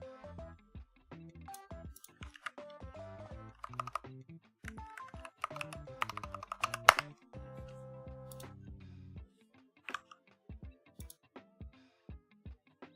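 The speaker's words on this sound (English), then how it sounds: "자, 이제 진짜 키보드 소리" Keys clatter on a computer keyboard in quick irregular bursts, crisp close clicks with short pauses between runs and no talking.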